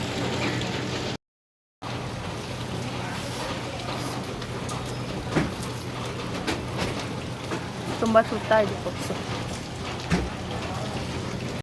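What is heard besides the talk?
heavy rain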